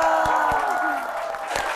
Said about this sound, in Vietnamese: Xin mời tất cả quý vị dành một tràng pháo tay cho em bé.